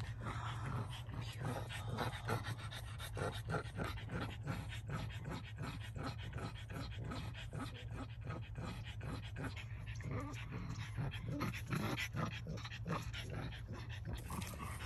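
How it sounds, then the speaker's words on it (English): A dog on a walk pants heavily and steadily throughout, rapid rhythmic breaths close by with a constant low hum underneath. "Not Coco ruining the serene experience with her heavy breathing."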